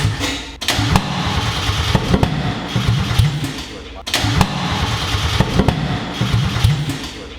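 A Mazda Miata 1.8L engine swapped into a 52-year-old Datsun runs loud and rough with no exhaust fitted, a steady dense roar with sharp thumps and a brief dip midway.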